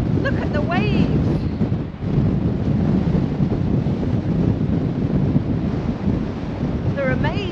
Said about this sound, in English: it's very windy on here and I'm struggling to stand up